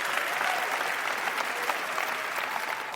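Sustained crowd applause for poet Sarah Kay's talk, an even, continuous roar of many hands at moderate loudness with no voices standing out.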